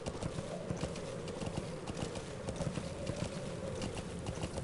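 Horse hooves gallop in a fast, steady clip-clop rhythm in Metal Gear Solid V: The Phantom Pain, set against a constant outdoor ambience.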